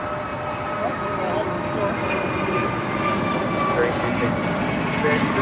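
A Boeing 777 taxis at Los Angeles International Airport (LAX), its engines a steady, loud, broad roar with a constant whine, with faint voices in the background.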